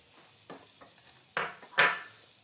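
Butter melting in a pan for banana cue, a soft sizzle broken by a few scraping stirs that grow louder toward the end, with the sharpest burst near the finish.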